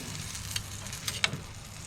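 Bear backstrap and bacon sizzle on a grill, a quiet steady hiss broken by a few faint pops and crackles, with no voices.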